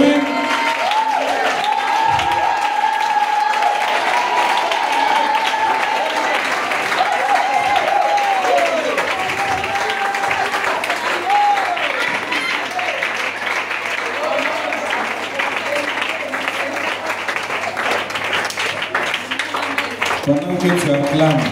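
A church congregation applauds in sustained, dense clapping that carries steadily throughout, with voices and a speaking or singing leader audible over the crowd.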